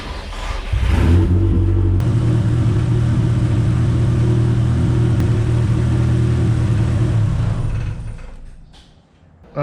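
Volvo 240 engine with a non-charging alternator starting and idling up close, a loud steady rumble with a low droning tone that runs several seconds before cutting off.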